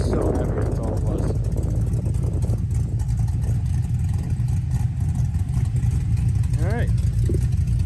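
An LS-swapped Camaro with a new X-pipe exhaust idles steadily and loudly nearby, a constant low rumble throughout while someone talks briefly over it.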